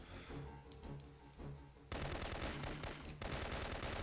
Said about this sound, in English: So here I just got to take out 3 Afghan soldiers who are firing mortars.